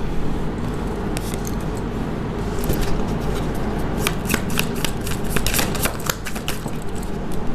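A tarot deck is shuffled by hand, with rapid papery riffles and flicks that come in quick bursts and grow busier toward the end, over a constant low background hum.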